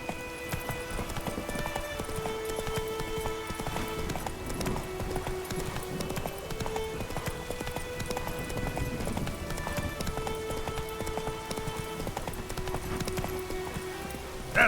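Roach the horse gallops in The Witcher 3, a steady rapid clip-clop of hooves over background game music and ambience.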